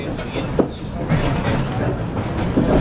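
A tourist train rolls along the track near Strahan, Tasmania, with a continuous rumbling, clattering ride noise and occasional clicks, while a guide talks over it.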